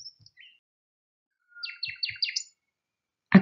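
A bird gives a quick series of high chirps in a short rapid burst, clear against near silence, with a soft thud at the end.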